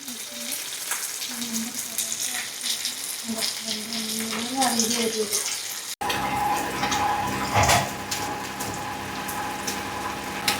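Sardines coated in masala fry steadily in hot oil, a continuous close sizzle with crackles that briefly stops, then resumes louder and more spattering.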